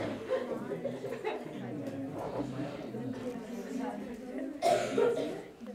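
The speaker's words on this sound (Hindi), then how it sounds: "खांसी खांसी" A person talks, then coughs hard a couple of times near the end, close and loud.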